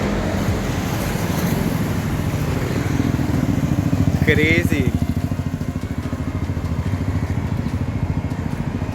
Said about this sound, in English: The quad exhaust.